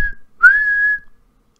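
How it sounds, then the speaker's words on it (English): Referee whistle in a Football Manager match: a short chirp, then a clear, sustained blast lasting about half a second, alone and close, before falling silent. "One referee whistle."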